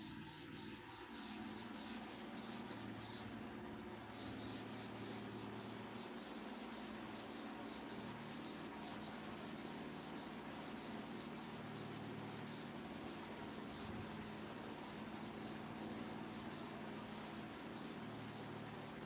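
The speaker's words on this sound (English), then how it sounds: "I want to finish the sharpening. That is 30 times to and fro. Light pressure, slow movement." A trimmer clipper blade is sharpened with light pressure and slow to-and-fro strokes, a soft continuous rubbing and scraping that runs steadily and quietly with a brief pause near the start, no talk.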